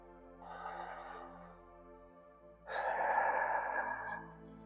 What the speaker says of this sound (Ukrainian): Тримаємо глибину і довжину вдиху максимальною